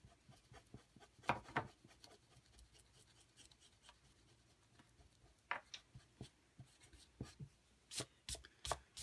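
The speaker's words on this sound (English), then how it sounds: "And I'm just going to erase it off." An eraser rubs ink off a card with quiet, close scrubbing strokes, soft at first and then growing into faster, firmer bursts of rubbing toward the end.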